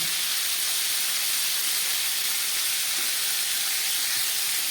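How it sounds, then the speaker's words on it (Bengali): Whole garam masala of cardamom, clove and cinnamon crackling in hot oil for a prawn posto dish, a constant close hissing sizzle, even and unbroken, with no voices. "এবার এই তেলের মধ্যে আমি একটু গরম মশলা ফোড়ন দেবো"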